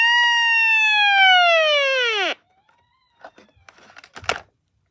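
A weather radio's alert tone sounds loud and close, a steady multi-harmonic electronic tone that holds for about two seconds and then sweeps downward as it cuts off, followed by faint clicks and handling noise.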